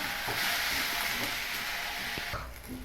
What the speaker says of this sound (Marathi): हे आपण छान आता परतून हलवून घेऊया